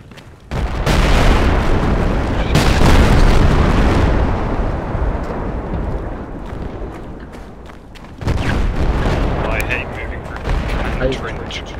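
Distant enemy gunfire in the video game Project Reality, on the Hades Peak map: sustained rumbling bursts and booms that fade and then return loudly near the end, with radio-style squad chatter around them.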